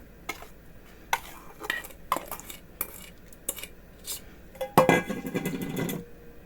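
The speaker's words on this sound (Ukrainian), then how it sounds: "Ще раз перемішую і сюди ж відправляю молоко з дріжджями" A spoon scrapes and knocks against a bowl while bun dough is stirred, in a series of separate clinks and taps. Near the end comes a brief louder splash as milk mixed with yeast is poured in.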